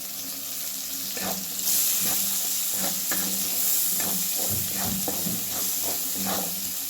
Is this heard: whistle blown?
no